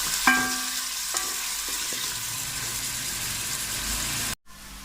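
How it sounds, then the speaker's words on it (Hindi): Onions fry and sizzle in a pan for beef nihari, a steady broadband hiss with a few spoon-against-pan knocks as they are stirred, close and loud with no talking. "ये देखिए प्याज, इसको जलाना नहीं है, हल्के हल्के ब्राउन होने शुरू हो गए।"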